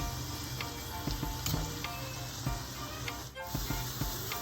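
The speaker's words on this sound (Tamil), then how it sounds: "ஸோ பூரியை வந்து இந்த மாதிரி எண்ணெய் நல்லா காஞ்சதுக்கு அப்புறமா போடுங்க." Pooris deep-frying in well-heated oil make a close, continuous sizzling hiss with a brief dip midway, and no voices are heard.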